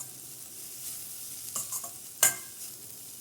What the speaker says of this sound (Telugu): ఆ తురుమంతా కూడా ఇందులో వేసేసుకోవాలి. దీన్ని కొంచెం గోల్డెన్ బ్రౌన్ కలర్ వచ్చే వరకు ఫ్రై చేసుకోవాలి ఈ స్వీట్ పొటాటోని.